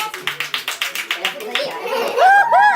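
A group claps in steady unison rhythm for a chef's crêpe batter on a French cooking show, a dozen or so even beats before whoops and chatter take over.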